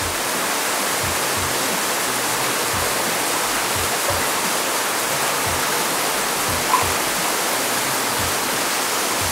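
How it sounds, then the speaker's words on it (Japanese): A waterfall on Hachijo Island, Japan, a continuous dense roar of falling water, loud and close, steady throughout with no voices. "滝の音がすごいいい感じ。"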